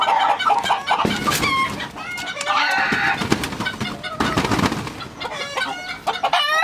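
Chickens cluck loudly and busily close by, with overlapping calls and sharp squawks throughout and no talking.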